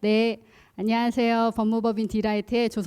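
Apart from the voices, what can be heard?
No distinct noise like a dog, phone or traffic.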